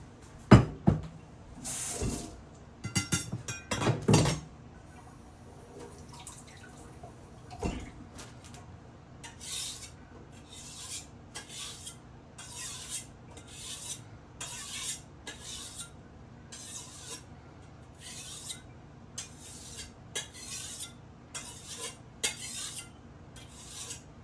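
Rasping strokes of a blade being sharpened, several loud scrapes at first, then a long run of quieter, rhythmic rubbing strokes with pauses between.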